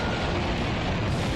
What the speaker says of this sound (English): creating a big explosion